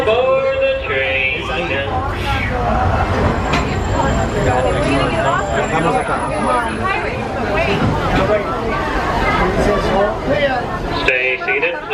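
The Walt Disney World Railroad train rolls around the Magic Kingdom, its rumble and rattling running steadily beneath a busy mix of crowd chatter and announcements, with squealing tones near the start.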